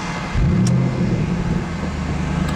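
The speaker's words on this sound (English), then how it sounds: "The sound of that V8 is just phenomenal." A 2013 Ford Mustang Shelby GT500 V8 revs up loudly nearby, its deep exhaust swelling after a short burst and then settling into a rumbling, throbbing idle.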